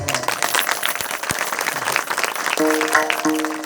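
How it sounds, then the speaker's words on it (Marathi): An audience at a Marathi devotional kirtan gathering breaks into sustained applause, dense and loud throughout, with a brief tonal musical note rising near the end. "एकदा यांच्या करता टाळ्या व्हायला पाहिजे की नाही."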